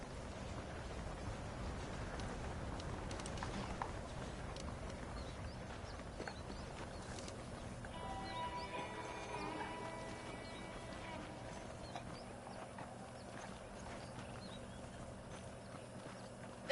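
Saddled horses' hooves clip-clopping in the Red Dead Redemption video game, a soft, steady patter under faint background ambience and a distant whinny.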